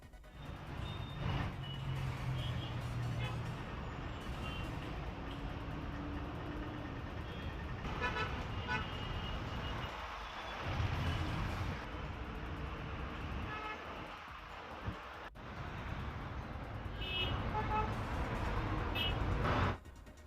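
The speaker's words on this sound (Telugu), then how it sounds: "విజయవాడ హైదరాబాద్ జాతీయ రహదారిపై ట్రాఫిక్ జామ్ అయినట్లు తెలుస్తుంది" Heavy traffic jam on the Vijayawada–Hyderabad national highway: cars and trucks rumble steadily while horns toot repeatedly, reversing beeps sound, and an air brake hisses amid the dense, continuous roadway noise.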